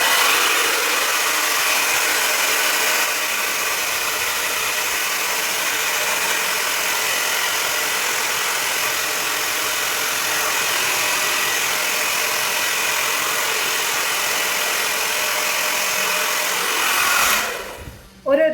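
A hair dryer blows steadily on its high-speed cold setting, a loud, even rushing hiss that holds for about seventeen seconds before cutting off near the end.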